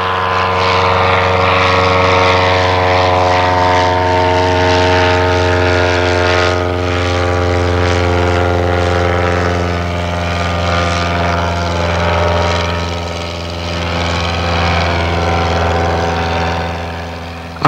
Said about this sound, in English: the Bristol box kite makes a more majestic departure